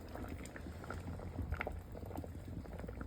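Steady bubbling of a coconut milk fish curry boiling in a clay pot, a continuous soft liquid churn with no voices, close and moderately loud throughout.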